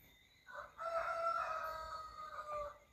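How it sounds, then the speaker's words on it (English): A rooster crows once in a single long, clear cock-a-doodle-doo at moderate distance, rising sharply and holding its call for about two seconds with no talk over it. "And the cock crow with that one."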